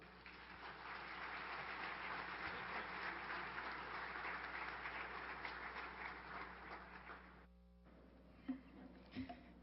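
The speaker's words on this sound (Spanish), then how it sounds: "Brindémosle un fuerte aplauso." Audience applause for a conference speaker at an education evaluation lecture: a dense, steady clapping from a large crowd that holds for about seven seconds, then stops abruptly, leaving a quiet room with a few faint knocks.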